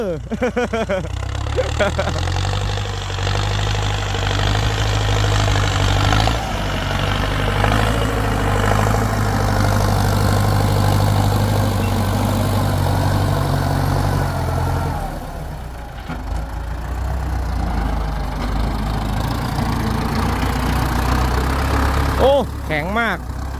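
A Ford 5000 turbo tractor plows a rice field with a loud, steady diesel drone. The engine note shifts and dips slightly partway through, and it keeps running close and continuous throughout.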